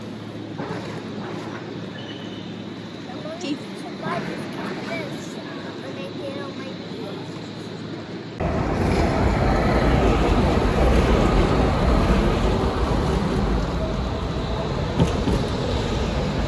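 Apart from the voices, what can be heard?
tram passing on street in Zagreb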